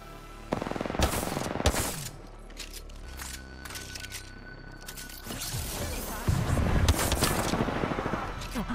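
Mozambique shotgun fire in a first-person shooter game, with bursts of sharp close shots and clattering mechanical sounds, louder toward the end, with people talking in between.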